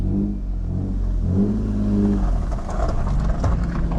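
A manual Lexus SC300 engine hums and revs from inside the cabin while driving, a loud, continuous mid-pitched drone that rises slightly as it accelerates.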